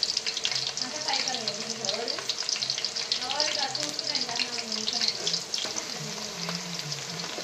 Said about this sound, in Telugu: ఈ కళాయి దాంట్లో మనం కోసుకొని రెడీ పెట్టుకున్న ఉల్లిగడ్డలు